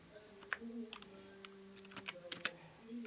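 Keys clatter on a computer keyboard as code is typed on a Windows PC, in short irregular bursts of clicks over a faint steady hum, with no talking.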